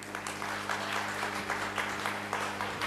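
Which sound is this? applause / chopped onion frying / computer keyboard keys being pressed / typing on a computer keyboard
applause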